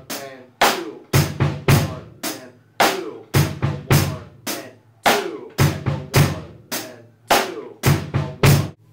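A drum kit plays a steady groove: a repeating bass drum kick figure with a kick on the e of beat two, under crisp snare and cymbal hits in a tight, even rhythm, close and dry with no talking.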